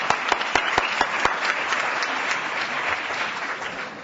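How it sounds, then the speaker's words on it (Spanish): Audience applause at a live table presentation, a dense steady wash of clapping from a sizeable crowd, with a few sharp louder claps standing out early on, then settling into an even, sustained round. "Bien, un aplauso,"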